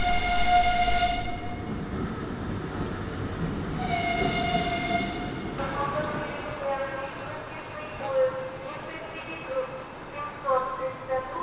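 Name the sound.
passenger train at Zaporizhzhia station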